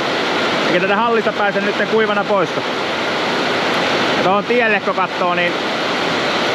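Heavy rain drums steadily on a steel sheet roof over a hall, a dense continuous roar that runs loud throughout while someone talks over it in two stretches.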